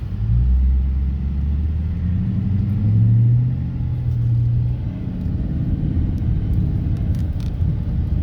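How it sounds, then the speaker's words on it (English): 2017 Dodge Challenger R/T with a manual gearbox, heard from inside while driving: a deep, steady low engine rumble that swells and eases slightly, continuous throughout with no talking. "Not sure how well you can hear the car"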